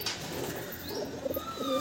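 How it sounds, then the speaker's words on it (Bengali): Kagzi white roller pigeons cooing close by, a soft low burble heard in a few short phrases over quiet background noise with faint chirps. "কাগজি সাদা পায়রা দেখুন, এটাও বাজির পায়রা।"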